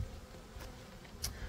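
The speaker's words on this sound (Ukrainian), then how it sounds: "Ось долупляються бджоли, бачите, долупляється бджілка." Honeybees on a brood frame, with young bees emerging from their cells, make a faint, steady buzz that rises briefly in short bursts as individual bees fly close.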